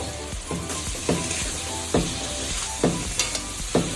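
Fried potatoes and chopped tomato sizzle in a pan for bhindi aloo, a steady close hiss punctuated by repeated spatula scrapes and knocks at irregular intervals.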